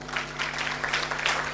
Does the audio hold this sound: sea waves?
no